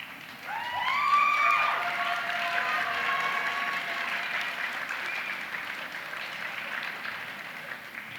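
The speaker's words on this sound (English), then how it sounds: "Stand up, children, and applaud your parents." Children applauding their parents at a university degree ceremony in a large hall, a steady wash of many hands clapping that swells in the first seconds and then holds, with a few faint voices mixed in.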